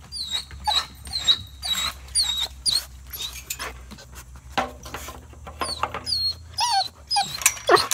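A dog whimpers and whines close by in a string of high, wavering cries, broken by short yips, soft growls and panting, with no talking.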